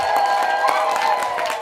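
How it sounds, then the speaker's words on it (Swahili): A church congregation at a worship service claps in joyful applause, a steady, dense wash of many hands with faint crowd voices. "Halafu mchapie Mungu makofi ya shangwe."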